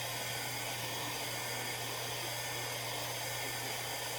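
A heat gun blows steadily across a tumbler coated with mica, a constant close whoosh of hot air with a low hum beneath, running unbroken throughout.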